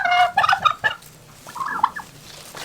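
Young turkeys in a farm pen gobble loudly close by in a quick rattling burst, then a second, softer gobbling call follows after a short pause, with no talking.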